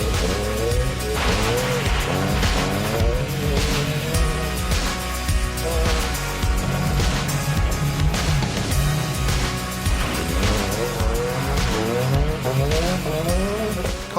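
A car climbs a bumpy gravel road, its engine loud and revving up and down with steady rumbling from the rough surface throughout.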